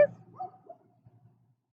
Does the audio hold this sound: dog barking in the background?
yes